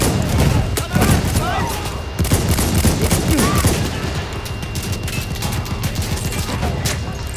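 Gunfire in the World War I shooter Battlefield 1: dense, continuous battlefield shooting with scattered rifle cracks and automatic bursts, occasional heavier thumps, steady and loud throughout with a voice speaking over it.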